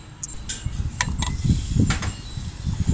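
Mechanical creaking and clicking of a gate valve being turned open on an upturned refrigerant tank, with soft scraping and a few sharp metallic ticks, close by and without talk.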